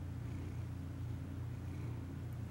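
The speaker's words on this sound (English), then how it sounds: "He's purring." A cat purring close by, a low, steady continuous rumble with no talking over it.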